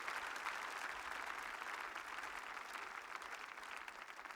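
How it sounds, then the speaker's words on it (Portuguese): Church congregation applauds during a worship service, a faint, even wash of many hands clapping together that continues steadily without pauses, heard from some distance. "dê um aplauso a Jesus"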